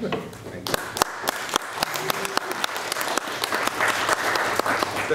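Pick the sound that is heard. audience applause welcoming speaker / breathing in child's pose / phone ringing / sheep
audience applause welcoming speaker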